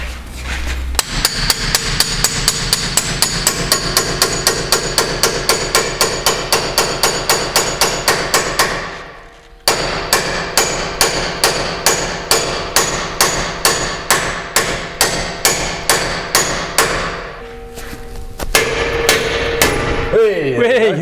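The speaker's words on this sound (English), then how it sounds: "you basically hit it in and it pops the joint open" Steady, rapid metal-on-metal hammer blows strike a fork tool to split a front suspension ball joint on a Mitsubishi L200, loud and close in two long rhythmic bursts with a brief pause between.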